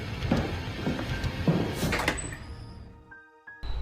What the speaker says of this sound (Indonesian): Pintu pun dibuka.